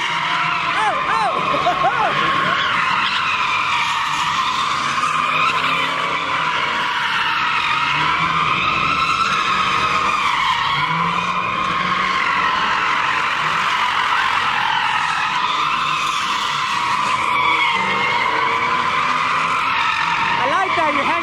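At a crowded car meet a Ford Mustang holds a long, loud tire-squealing skid, the screech wavering steadily for about twenty seconds over rumbling engine noise, with people talking and shouting throughout.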